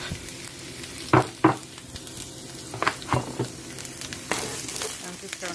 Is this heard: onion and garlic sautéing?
yes